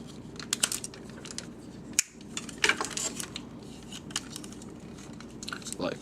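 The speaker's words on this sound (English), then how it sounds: "Now basically you just stand him up, fold his arms down, and flip his hands out." Plastic Masterpiece Grimlock transforming toy being handled and posed into robot mode, with scattered close clicks, rattles and small snaps of the parts, a brief pause near the middle and no talking.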